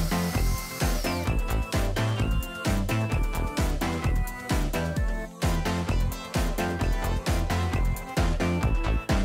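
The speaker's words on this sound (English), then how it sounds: "we'll need to drill two holes and string it through." A power drill bores holes through a prop bow arm, whining in steady bursts with brief pauses and changes in pitch as the bit works through the material, close and loud.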